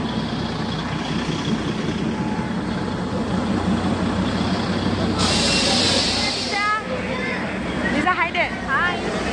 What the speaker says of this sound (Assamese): এখন টয় ট্ৰেইন চলি আছে আৰম্ভ হ'ব